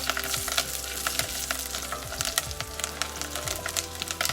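Green chilies sizzle and crackle steadily while frying in ghee, a dense close hiss broken by soft stirring scrapes and clicks, with no voices.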